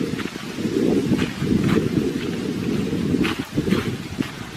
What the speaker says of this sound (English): It's getting a little bit windier.